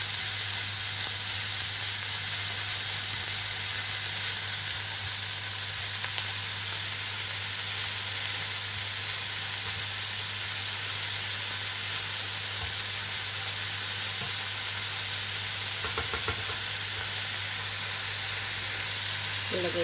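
Vegetables and ham frying in a pan for homemade fried rice give a steady, dense sizzle and hiss throughout, loud and close, with a few faint stirring clatters near the end.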